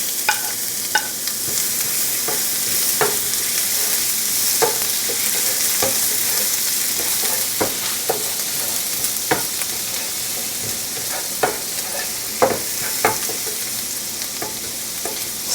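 Garlic and ginger frying in a little oil for a shrimp stir fry, a continuous close sizzle broken by regular stirring scrapes and taps, no voices.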